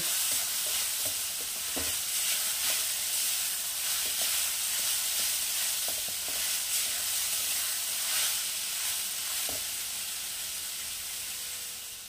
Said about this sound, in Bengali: লবণ দেওয়ার পর একটু জল ছাড়বে, আবার লো ফ্লেমে আমি এটাকে আবার একটু ভালো করে ভেজে নেব।